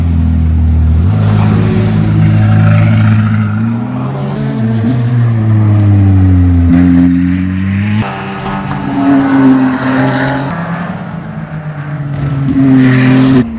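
A Ferrari 296 Challenge race car's V6 engine roars and revs continuously on track, pitch rising and falling as it accelerates and shifts, loud and close with no talking.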